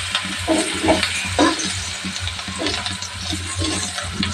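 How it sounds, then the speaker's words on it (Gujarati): Chopped onions and curry leaves sizzle in a pan for upma, with a soft, continuous crackle and some intermittent stirring or scraping sounds close by. "બે ચમચી લીમડા આપણે કાંદા એડ કરી દઈશું અંદર"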